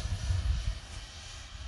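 A Freewing Messerschmitt Me-262 V2 radio-controlled jet with twin 70mm electric ducted fans flies overhead outdoors in a stout breeze, giving a steady whooshing whine with wind rumble underneath, heard from some distance at moderate volume.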